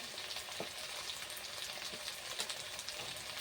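Ground spices such as turmeric, chilli powder and cumin fried and mixed in a pan for chicken kosha, a steady soft sizzle with faint stirring scrapes running throughout, close and even in level.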